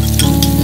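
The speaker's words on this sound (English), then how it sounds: "so now she's gonna fry it" Shallots, red onions and garlic pan frying in oil, a steady close sizzle with soft crackle throughout, no talking.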